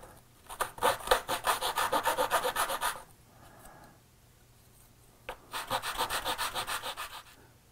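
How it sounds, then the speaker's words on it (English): Edges of a printed circuit board for a TS2068 EPROM cartridge being filed by hand with an ordinary file: two bursts of rapid, even rasping strokes, close and loud, separated by a short pause. "we can just file it off with an ordinary file"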